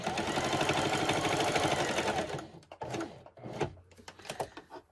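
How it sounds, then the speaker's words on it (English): Sewing machine stitching trim around a fabric dish drying mat: a steady, fast mechanical whirr for about two seconds, then stopping into a few short, quieter bursts of stitching, close and fairly faint. "Just go slow. Watch where you're sewing."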